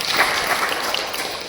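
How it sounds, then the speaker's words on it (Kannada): Audience at a cultural talent event applauds the dancers with steady, moderately loud clapping throughout a short burst. "ಅವರಿಗೆ ಚಪ್ಪಾಳೆ ನೀಡುತ್ತಾ"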